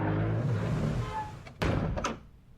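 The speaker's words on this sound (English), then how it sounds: "I snuck past and out the front door." A front door in a video game opens and closes, giving two sharp thuds about half a second apart over a low background rumble.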